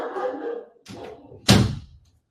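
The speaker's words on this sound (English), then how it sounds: "Hang on, I've got to shut my door." A room door is pushed shut indoors, a short scrape and shuffle followed by a sharp, loud slam that rings briefly and then falls silent.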